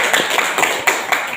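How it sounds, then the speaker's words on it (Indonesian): A small group at a school event claps in a quick, uneven patter for about a second and a half, close and fairly loud. "Mari kita tepuk tangan dulu untuk sekolah itu."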